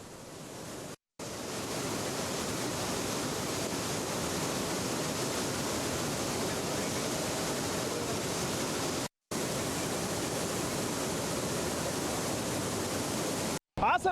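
Water released from the Hemavathi dam in Hassan during heavy monsoon rain rushes down the river as a steady, loud, unbroken roar that fills the whole clip, with a few brief dropouts.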